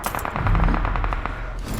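Rapid automatic gunfire in a battle royale video game, a dense burst of repeated shots throughout, loud and close with no talking.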